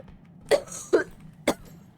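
Three short coughs from a child, spaced about half a second apart, close and fairly loud in an otherwise quiet space.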